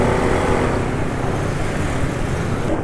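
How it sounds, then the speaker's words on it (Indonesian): A car engine runs steadily while driving, a dense, somewhat rough drone with road noise, loud and continuous with no talking. "suara mesin emang sudah lebih kasar ya"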